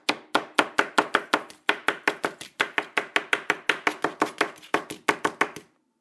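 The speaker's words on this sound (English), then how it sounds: "Let's chop it up. It's gonna be very hard to chop up." Fresh garden parsley chopped with a knife on a cutting board, a fast, steady run of sharp, close taps in quick bursts with brief pauses, ending abruptly.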